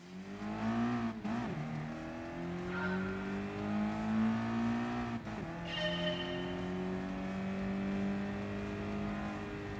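A roadster's engine in the Gran Turismo racing game drones and revs steadily, its pitch dipping and climbing as the throttle is eased off and reapplied through corners, with brief tire squeal, loud and continuous.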